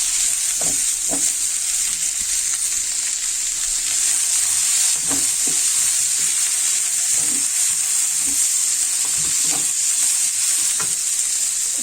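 Colored bell peppers fry in a pan with a loud, constant sizzle, punctuated by occasional scraping and stirring knocks throughout, with no voices.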